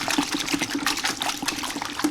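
Water splashes and trickles steadily while polishing pads are being washed in a garage, a close, continuous wet spattering with a few soft rhythmic pulses and no talking.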